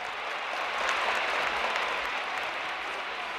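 A large crowd in St. Peter's Square applauds and cheers as white smoke appears, a dense, steady wash of clapping and shouting heard from a distance, holding level throughout.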